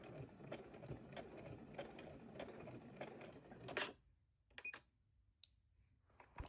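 A sewing machine back-stitches a heavy fabric rug in a fast, loud mechanical clatter, then stops abruptly, followed by a few faint clicks and a short burst of stitching.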